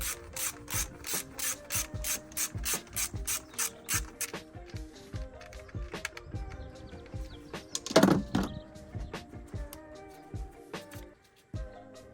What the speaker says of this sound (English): Put the deeper socket on, so it's spinning around a bit easier.